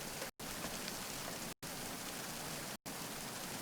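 Steady rainfall from Metal Gear Solid 2: Sons of Liberty HD, a dense, even hiss of rain on surfaces broken by three brief full dropouts of silence.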